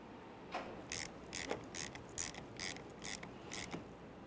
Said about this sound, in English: Start on the mounting nut and snug it up.